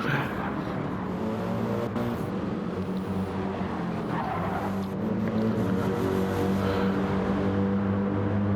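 Race cars in a sim racing game drone continuously through the whole stretch, steady engine harmonics with faint tire squeal, with a commentator talking over them.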